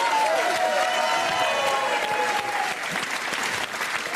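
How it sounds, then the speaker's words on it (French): Studio audience at a French television entertainment show breaks into loud, continuous applause, with a faint tonal musical swell running under the dense clapping. "Vous pouvez applaudir Jonathan Lambert, évidemment"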